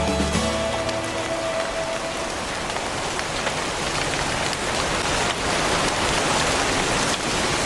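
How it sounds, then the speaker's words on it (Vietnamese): Steady rain pours down continuously, a dense broadband hiss of drops striking surfaces, loud and close throughout with no voices. "Trời mưa rồi"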